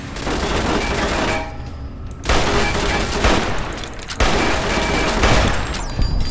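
Dense rapid gunfire from turrets and weapons fills a Fallout: New Vegas fight. Loud continuous fusillades are broken by two brief dips, then the shooting resumes at full strength.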